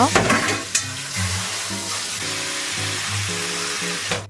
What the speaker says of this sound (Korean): 마른 팬에 건새우를 넣고 볶아줄게요.